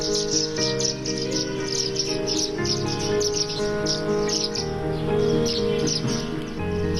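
Birds chirp and call over one another in a mini bird sanctuary garden in Nagpur, with bright, repeated tweets and a steady insect-like trill running underneath, fairly close and continuous.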